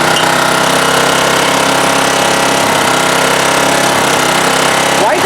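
A 1987 Honda HRA214 lawnmower runs roughly just after starting, its engine a loud, continuous rattling drone that surges unevenly, with brief talk in the background.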